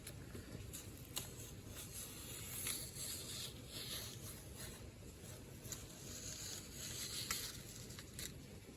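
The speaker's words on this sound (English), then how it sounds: "Can you hear the rain?" Soft, steady patter of rain falling outside, a faint continuous wash dotted with small irregular drips and taps, heard from indoors with no talking.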